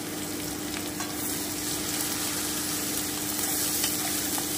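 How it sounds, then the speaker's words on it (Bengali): Chopped onions deep fry in hot oil in a pan, a dense, steady sizzle and crackle heard close up without pause, with faint stirring and no voices. "এবারে আমি পেঁয়াজ কুচিটা দিয়ে দিচ্ছি। আমি কিন্তু খুব ভালো করে ভেজে নেব।"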